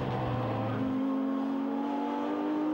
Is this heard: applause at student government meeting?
no